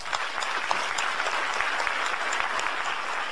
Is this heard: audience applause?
yes